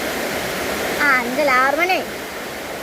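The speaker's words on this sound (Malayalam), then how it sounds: "നല്ല മഴയും കാറ്റുണ്ട് കേട്ടോ." Heavy rain with wind makes a steady, broad rushing roar that holds throughout, while a voice speaks briefly over it in the middle.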